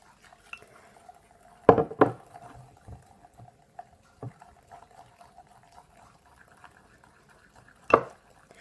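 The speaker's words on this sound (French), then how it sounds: "je vais touiller pendant 1 minute" Slime stirred in a cold glass gives sparse clinks and knocks of the utensil against the glass, with soft, wet squelching in between, mostly quiet with a few sharper hits.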